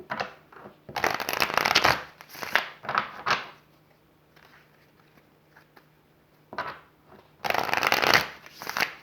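Tarot cards are shuffled in several brisk riffling bursts separated by quiet pauses, close and crisp, with no talking.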